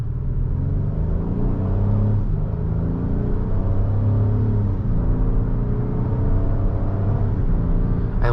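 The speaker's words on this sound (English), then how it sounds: "I love how this car gets up to speed. I mean, the transmission is nice and snappy." A 2024 Acura MDX Technology SH-AWD with a V6 accelerates on the road, its engine note climbing through quick gear changes with a steady low rumble and whir, close and continuous.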